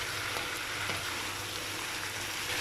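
Chicken frying in a pan with spices, garlic, ginger, onion and garam masala, a steady close crackling sizzle, soft and continuous with no voices.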